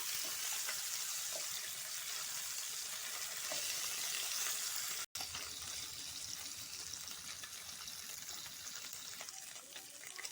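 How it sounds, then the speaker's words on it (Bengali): Bata fish frying in hot oil, a continuous close sizzle and crackle with a brief cut in the middle and no talk. "তেল গরম হয়ে গেছে, তাই এর মধ্যে আমি মাছগুলো ভেজে নেব।"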